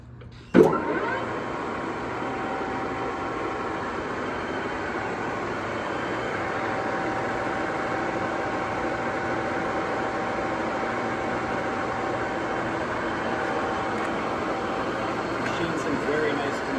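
A 2008 JET GH1460ZX 14x60 toolroom lathe runs at 820 RPM, a steady even mechanical whir and hum after a brief clunk at the start, with someone talking over it.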